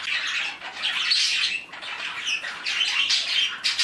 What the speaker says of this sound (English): She's the Budgie that I hand raised